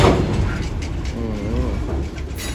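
A freight train slowing down, heavy continuous rumble of rolling railcars close by with faint rhythmic clatter and a brief wavering tonal squeal from wheels or brakes partway through.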